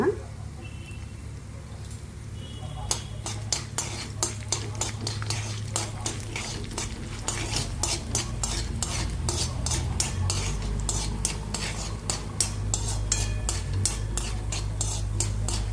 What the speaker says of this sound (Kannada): ಜೀರಿಗೆ ಸಾಸಿವೆ ಇದೆಲ್ಲ ಫ್ರೈ ಮಾಡ್ಕೊಳ್ಳೋಣ